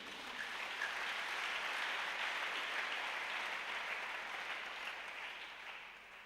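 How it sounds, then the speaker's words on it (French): A church congregation applauds and cheers during a sermon on submitting to authority, a dense, steady wash of clapping from many hands that stays loud throughout and eases off slightly at the end. "Acclame Jésus"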